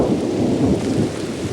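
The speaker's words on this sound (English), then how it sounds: "Suddenly, we heard approaching thunder." Low rolling thunder rumbles continuously with soft, steady rain falling around it, a broad dense wash that stays at an even level throughout with no voices.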